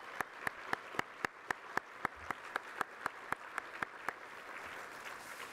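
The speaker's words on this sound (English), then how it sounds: "Let's give all of our Breakfast of Hope sponsors a really warm round of applause" Guests at the Breakfast of Hope 2019 charity breakfast for Northwest Kidney Centers applaud the event's sponsors. Crisp, evenly spaced claps from a nearby person stand out over soft, distant applause, and the sound fades toward the end.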